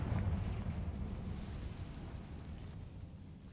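A Confringo fire spell blasts in Hogwarts Legacy, a deep rumbling burst that rolls on and slowly fades over a few seconds, loud and low, with no voices.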